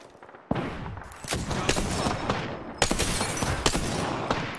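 Rapid bursts of gunfire in the battle royale game Apex Legends, loud and dense with sharp cracks repeating in quick volleys throughout, no voices.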